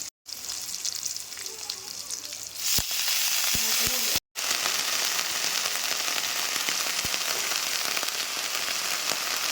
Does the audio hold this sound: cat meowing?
no